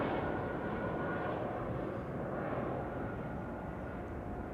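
An Airbus A220 at Amsterdam Schiphol produces a steady, fairly faint broadband engine roar at a distance, continuous throughout without talk.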